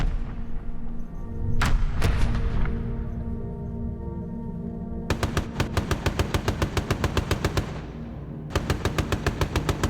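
Bomber turret machine guns during a test burst over the English coast, loud rapid bursts of gunfire: one long stuttering volley, a pause, then another quick string of shots near and forceful over engine drone.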